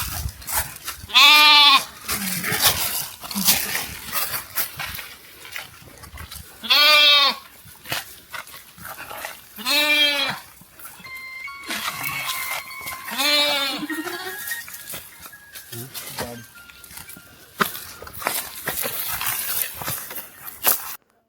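Lambs bleat loudly and repeatedly after being rescued from a well, several long wavering calls spaced a few seconds apart in an open outdoor setting with scattered background noise.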